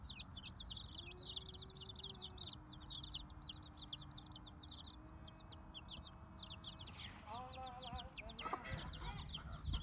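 Heritage hen Hazel with her chicks, the chicks peeping in rapid, continuous high chirps while the hen clucks low underneath, faint and nearby, with a brief voice late on.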